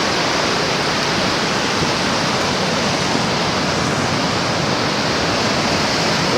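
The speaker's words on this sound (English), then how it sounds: "Look at how rough that water is. Looks like Niagara Falls." Rough, churning water with waves, a continuous loud broadband rush like a waterfall, steady and unbroken throughout with no voices.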